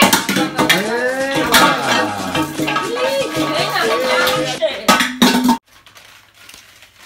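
Pots and pans clatter and clank repeatedly in a kitchen, loud and close, with someone talking and shouting throughout before the noise suddenly stops.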